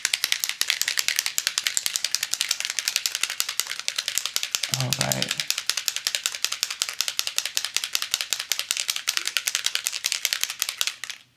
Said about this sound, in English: We'll shake it up to make sure that it's nice and mixed.